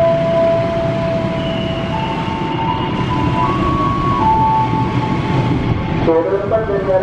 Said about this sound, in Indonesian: Jalur 4 dari arah timur kereta api melintas langsung.